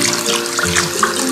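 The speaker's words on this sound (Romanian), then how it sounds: "La început vom lua apă călduță cu găleata" Warm water is poured from a bucket into a baby bathtub, a close, continuous splashing gush with small bubbling swells and no talking.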